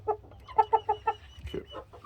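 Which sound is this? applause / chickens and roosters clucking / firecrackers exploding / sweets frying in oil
chickens and roosters clucking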